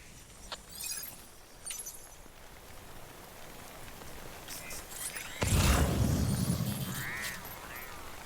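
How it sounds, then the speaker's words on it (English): Rain falls steadily in the video game Death Stranding, a soft hiss of drops on surfaces under scattered clicks and effects, swelling into a louder rush of heavier rain after about five seconds. "I hate the fucking rain, though."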